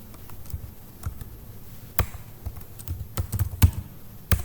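Close computer keyboard typing while entering CSS code, with irregular clusters of crisp key taps and a few louder strikes, no talking.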